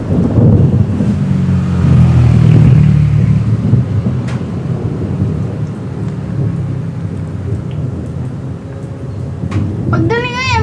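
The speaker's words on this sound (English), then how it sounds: "Shh, the thunder's coming." Deep rolling thunder during a rainy thunderstorm, captured in stereo, swells loudly in the first few seconds and then fades into a long low rumble under steady rain, with brief voices breaking in near the end.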